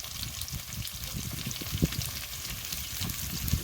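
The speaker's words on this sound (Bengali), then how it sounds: "ভালো করে ভেজে নেব" Potatoes frying in hot oil with turmeric powder for a thin rohu fish curry, a soft, continuous sizzle with light crackles and occasional spoon scrapes against the pan, fairly quiet and close.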